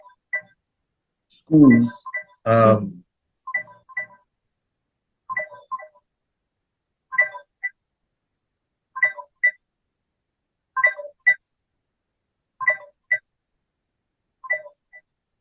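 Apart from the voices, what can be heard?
phone ringing or beeping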